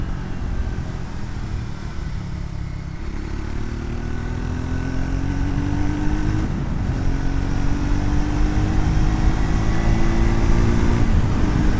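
A Triumph Scrambler X400 motorcycle (2026 model) builds speed on the road as its engine note climbs steadily in pitch over two rising pulls, mixed with constant wind rush.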